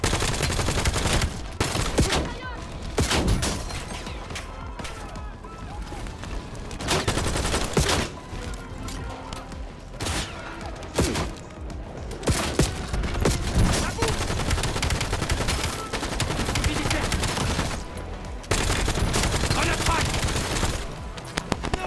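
Rapid bursts of automatic gunfire and scattered single shots crackle throughout a Call of Duty Black Ops 7 firefight, loud and dense with brief lulls, under intermittent talk.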